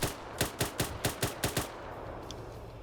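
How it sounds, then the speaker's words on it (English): Gunfire in a large 200-player PvP military video game match: a rapid string of about eight sharp shots in quick succession, then silence, moderately distant and with no talk over it. "Cobra then starts shooting."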